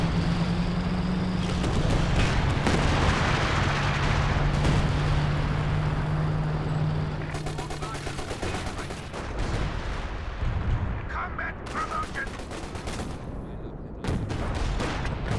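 Base howitzer artillery firing in Company of Heroes 2, with heavy booms and rumbling shell bursts mixed into a busy battlefield din under a steady engine drone, with other combat noise around it.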